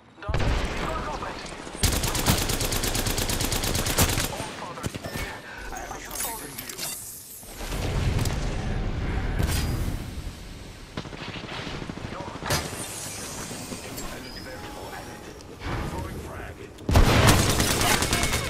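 Video game firefight with bursts of rapid automatic gunfire and booms coming in waves and pauses, close and loud, with people talking throughout.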